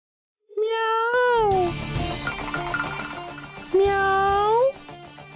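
Two long, drawn-out cat meows, near and loud, separated by a pause, with some background clatter and music-like tones in between.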